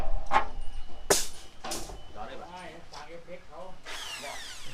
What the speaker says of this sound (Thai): ใช้สว่านเจาะนะครับ